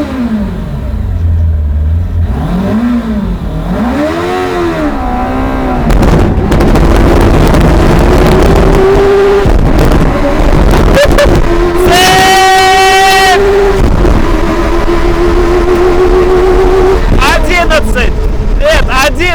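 Two-engine invalid carriage accelerating hard, rising and falling engine whines climbing in pitch with bangs and rattles from a slipping chain, loud and close, with people talking over it.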